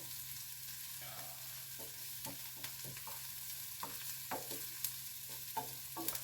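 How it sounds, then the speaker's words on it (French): Food sautéing in a pan before balsamic vinegar goes in, a faint, steady sizzle under light scrapes and taps of stirring, with no talk. "Alors, je vais les faire revenir."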